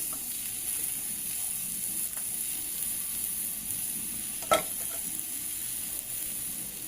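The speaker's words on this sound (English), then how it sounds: "I'm going to roast this for another 2-3 minutes till the onions get a little brown and soft" Onions, ginger, garlic and green chilies fry in a pan with browned coconut for chicken gravy, a steady close sizzle throughout with one sharp clink of a utensil partway through.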